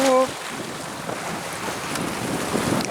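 A Catalina 22 sailboat beam reaching in open water, with steady wind rushing across the microphone over a soft wash of water along the hull. A short tone sounds at the very start.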